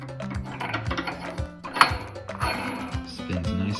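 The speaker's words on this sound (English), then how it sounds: "Next we have our Z dial. That just slides up over there." Z dial sliding onto a Bridgeport milling machine's saddle and spinning, light metallic clicks and ticking with a sharp clink partway through, close and fairly quiet.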